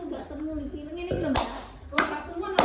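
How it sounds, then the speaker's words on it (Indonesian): Three sharp hand claps ring out about half a second apart, mixed in with ongoing voices in a casual home setting. "Tepuk tangan."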